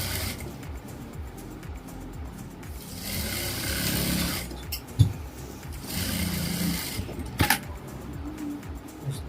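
A sewing machine stitches Patiala salwar fabric in two steady whirring runs, with a short pause and a few sharp clicks between them, close by and without talk.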